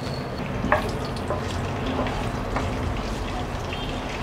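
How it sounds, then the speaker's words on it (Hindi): Chillies and bay leaves hit melted butter in a pan, giving a steady, moderate sizzle with a few small pops and stirring clicks, heard close with no talk. "बटर को थोड़ा सा मेल्ट होने देते हैं और फिर इसमें मिर्ची और तेज़पत्ता डालेंगे"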